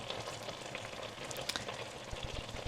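Oil poured into a frying pan for eggplant sizzles and crackles in a steady, close hiss, with a few sharper pops toward the end.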